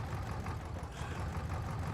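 A tractor engine in Farming Simulator 22 drones steadily, a loud low chugging rumble close by throughout, with no voices.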